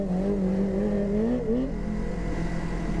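A new Yamaha R25 motorcycle engine revs while riding in fourth gear, a loud continuous droning whine that climbs in pitch then eases, steady wind and road noise beneath, with no talking.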